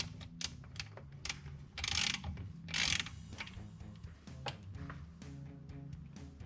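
A ratchet undoes a brake bolt on a 1963 VW Beetle during a king pin disc brake conversion, giving quiet, close rapid clicking strokes with two louder scraping bursts, over a low background hum and no talk.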